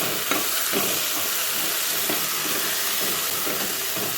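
Raw peanuts fry in a pan with a steady, close sizzle and hiss, broken by soft stirring scrapes at irregular intervals, and nobody speaks.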